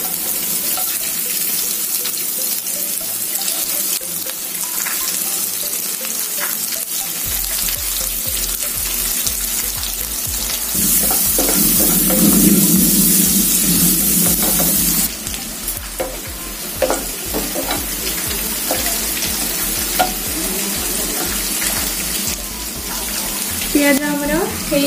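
Onion and turmeric fry and get stirred in a pan for a village-style fish curry, a steady loud sizzle with scraping stirs, bursts of hotter frying and some splashing in between.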